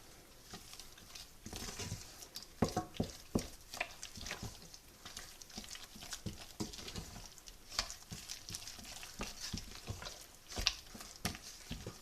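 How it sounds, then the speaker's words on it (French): Eggs worked one at a time into cooled choux pastry dough for éclairs, a quiet, close, rhythmic patter of stirring and sticky dough strokes repeating throughout, with no voices. "je vais venir rajouter les œufs un par un. Et je vais mélanger à chaque fois"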